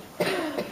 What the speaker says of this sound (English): Sorry, I was like coughing.